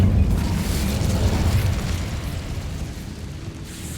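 An Incendio fire spell cast in Hogwarts Legacy gives a loud, sustained burst of roaring flame with a boom at the start, fading slowly over four seconds with no talking.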